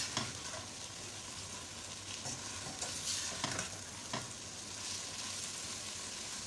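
Mutton keema stir-fries over medium heat in a karahi, a soft, steady sizzle broken by scraping clicks from the spoon as the mince is turned. It sounds fairly quiet and close, with no voices.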